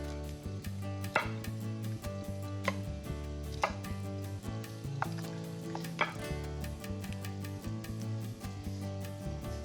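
A knife chops broccoli into even pieces on a cutting board, with a run of sharp, uneven taps standing out over steady background music.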